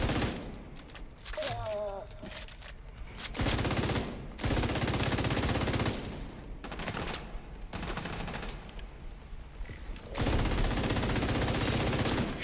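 Rapid automatic gunfire and explosions ring out in a shooter video game, coming in dense bursts with brief lulls, loud and close, mixed with in-game effects and occasional voices.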